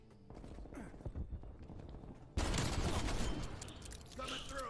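Kimbo pistols firing in a video game, with a steady dense fusillade of shots that gets louder and busier partway through, heard close and continuous amid other game effects.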